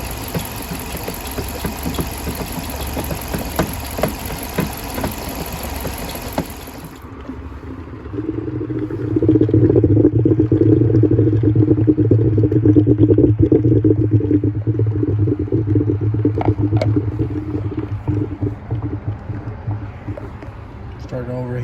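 A Chrysler 300C with the 5.7 Hemi engine idles roughly while overheating, its low steady rumble broken by irregular pops and knocks, with a person talking nearby.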